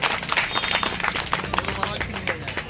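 Audience applause at an Urdu mushaira poetry gathering: a steady stretch of many hands clapping, with crowd murmur mixed underneath throughout.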